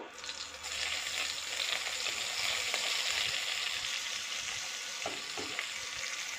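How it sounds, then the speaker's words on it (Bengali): Cumin seeds and a small amount of onion sizzle in hot oil in a pan, a steady bright crackling hiss that holds throughout with occasional stirring clatter, no voices. "তেলটা আমার গরম হয়ে গেছে। আমি একটু সাদা জিরে দিয়ে দিলাম ফোড়নে"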